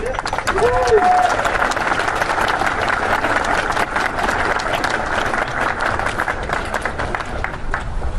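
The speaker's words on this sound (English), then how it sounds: "Congratulations. Give him a round of applause." A crowd applauds loudly after an oath of office is sworn, dense continuous clapping with some cheering and voices mixed in, steady to the end.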